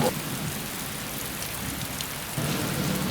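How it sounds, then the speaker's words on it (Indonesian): Heavy rain falls steadily as a dense, even wash of noise with no distinct drops, swelling slightly louder near the end, no voices. "Ini kan lagi hujan deras kayak gini."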